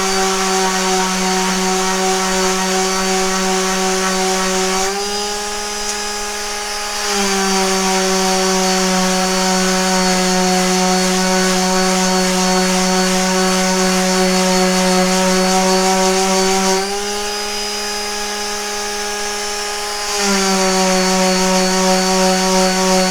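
A small power sander with 80 grit sandpaper works a wooden trebuchet part. It gives a loud, steady motor whine with strong harmonics and dips slightly twice as the load changes, with no talk.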